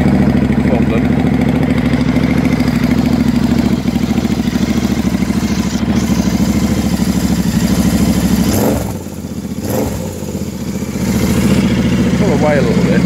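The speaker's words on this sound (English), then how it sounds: "So I've started the bike up now, just let her warm up a little bit, so you can hear the exhaust go." Classic motorcycle fitted with a Classic Bike Shop peashooter exhaust, idling while warming up from about a metre away: a steady, loud, rumbling idle throughout, briefly dipping mid-clip before settling back to an even beat.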